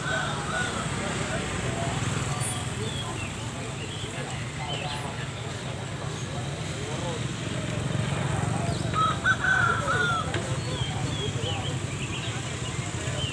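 Laying hens around three months old cluck and call at a poultry market, a busy overlapping chatter of fowl with an occasional crow, under steady background voices.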